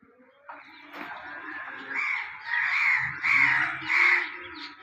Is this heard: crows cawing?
yes